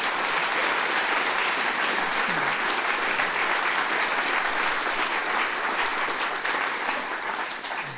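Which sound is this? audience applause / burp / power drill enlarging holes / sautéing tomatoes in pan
audience applause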